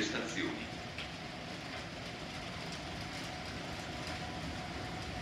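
Freight train rolling past in the rain at Laveno, a steady broadband rumble and hiss throughout, with faint rail clatter under the constant noise of rain.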